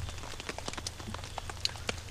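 Rain during a thunderstorm at a campsite, a dense close patter of drops striking a surface with scattered sharper taps over a low steady rumble, continuous throughout.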